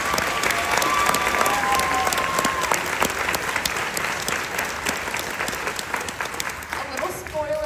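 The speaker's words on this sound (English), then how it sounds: "Let's give a big round of applause for Mr. Bineski." Loud, sustained applause from an audience at a school spring band concert, many hands clapping densely, with voices faintly audible beneath before it tapers slightly near the end.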